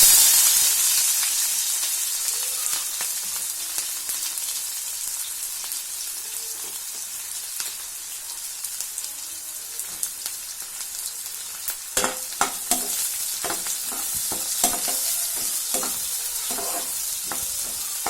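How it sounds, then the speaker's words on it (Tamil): Onions frying in oil with crackled fennel and cumin for a restaurant-style aloo gobi gravy, a loud continuous sizzle and hiss, with a burst of spoon scraping and clinks in the second half. "சோம்பு சீரகம் பொரிஞ்சிருச்சு. இப்ப நம்ம வச்சிருக்கிற வெங்காயத்தை இதோட சேர்த்துடலாம்."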